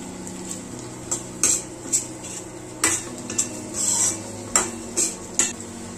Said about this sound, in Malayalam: നമുക്ക് അതിലേക്ക് കട്ട് ചെയ്ത് വെച്ചേക്കുന്ന ചുവന്നുള്ളി സവാളയും കൂടെ ചേർത്ത് കൊടുക്കാം.